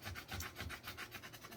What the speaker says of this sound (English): I just have a sanding block here. I'm going to smooth that surface out